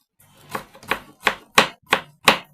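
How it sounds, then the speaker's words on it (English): A knife chops an onion on a board in six evenly spaced, crisp strikes, each clear and close with short pauses between, and no talking. "Do you know how to chop the onion?"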